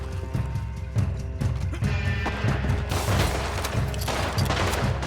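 Gunfire in Red Dead Redemption 2 during a saloon brawl over liquor, loud bursts and a dense volley layered over a steady game soundtrack, with shots crowding together toward the end.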